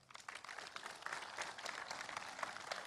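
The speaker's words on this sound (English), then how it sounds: "Give him a round of applause." Quiet, distant audience applause at a tech conference session on Java 8, a continuous patter of many hands clapping that builds slightly and holds steady.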